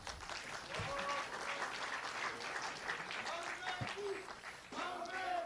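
A political party convention audience applauds loudly as candidates for the party's supreme council take the stage, the dense clapping filling the hall steadily for several seconds with voices faintly mixed in.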